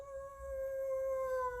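A long, sustained wolf-like howl with a steady, slightly falling pitch and clear harmonics, heard alone at low volume; likely a voice imitating a wolf.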